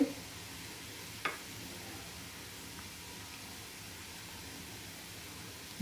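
Sliced green chillies added to onions frying in a pan make a soft, even sizzle, fairly quiet and steady with a light tap partway through.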